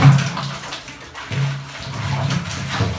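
Water sloshes and pours inside a plastic container as it is rinsed out, a close hollow gurgling rush that swells and fades in uneven waves.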